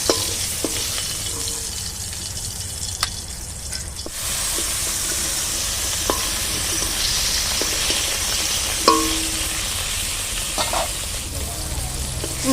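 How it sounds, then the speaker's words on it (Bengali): Fish frying in a pan gives off a steady, close sizzle that crackles and spits throughout, with occasional clinks and stirring sounds. "এভাবে বাকি মাছগুলো আমি ভেজে নেব"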